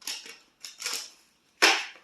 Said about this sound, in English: going to do another little shuffle